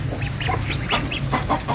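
A flock of 29 hungry ducklings, just over one month old, peep and chirp in quick overlapping calls close by, with a low hum running underneath.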